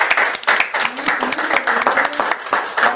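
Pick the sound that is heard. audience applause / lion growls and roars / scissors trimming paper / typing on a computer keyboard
audience applause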